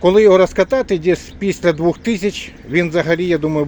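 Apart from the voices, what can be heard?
No everyday noise stands out behind the speech.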